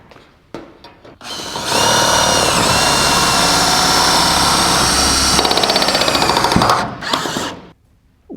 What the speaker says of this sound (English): I'm going to put a couple of our 1/4-14 1 1/4 Tech 2 Zacks